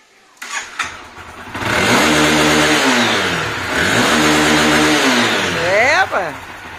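A Honda Twister motorcycle with a remapped module cranks over and fires up, then revs loud and close in two long sustained pulls with a sharp blip near the end. Voices are heard briefly around the engine.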